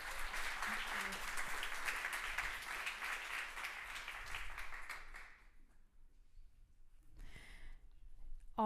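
Applause from an audience at the Award for Change 2024 ceremony, a dense wash of clapping for about five seconds that stops abruptly, followed by near silence and a brief spoken sound.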